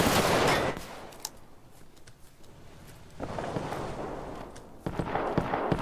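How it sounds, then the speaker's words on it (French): Roblox FPS gunfire, a loud burst at the start, then quieter scattered shots and cracks, rising again into another heavy burst of fire near the end. "Je lui ai vidé un chargeur entier"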